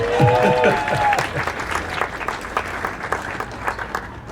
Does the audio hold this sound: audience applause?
yes